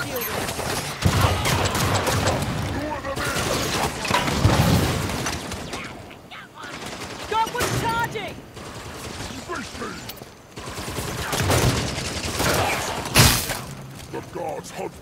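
Gunfire from a weapon in Halo 5, bursts of rapid shots and mechanical clanks in loud clusters separated by brief lulls, mixed with game effects and players talking.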